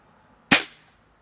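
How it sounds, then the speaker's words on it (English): A single sharp shot from a BSA Lightning CLX air rifle, loud and close, with a quick crack that tails off within half a second against a quiet background. "It's definitely what I would call a purposeful firing cycle."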